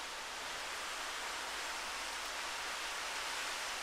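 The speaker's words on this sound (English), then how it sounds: "And it's raining seriously." Heavy rain gives a constant, even hiss of dense falling water with no break, fairly faint, and no one speaks over it.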